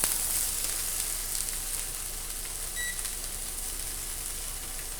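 Small chopped onion sizzling and frying in a pan, a steady close hiss held evenly throughout with no talking.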